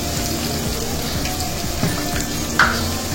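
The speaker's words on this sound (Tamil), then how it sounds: "தக்காளியெல்லாம் போட்டதுக்கப்புறமா நல்லா வதங்கிடுச்சு" Tomatoes frying in a pan after salt has been added, giving a steady close sizzle and crackle throughout with a few brief louder pops and stirring scrapes near the end.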